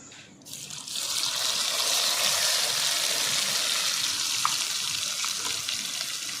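Ground cauliflower-leaf paste hits hot white oil tempered with nigella seeds, and after a brief quieter moment it breaks into a loud, steady, hissing sizzle that carries on without any talking.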